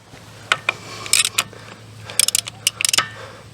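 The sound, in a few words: removing tractor drain plug with a 22mm socket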